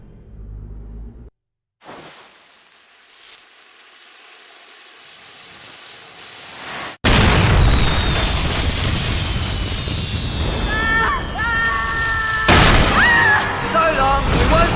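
Spell explosion in the Harry Potter and the Order of the Phoenix video game: after quieter game ambience and a sudden cut, a loud, sustained roaring blast with crackling debris and bright whistling effects fills the rest.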